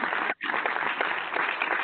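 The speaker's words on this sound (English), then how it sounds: "Let's applaud them again." Audience applause breaks out in a barbershop talk-radio studio, a steady wash of clapping with a brief dropout near the start, moderate and fairly close.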